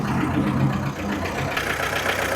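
A Mahindra Bolero engine idles with a steady low rumble and faint rhythmic knocking, close by and continuous, with no voices over it.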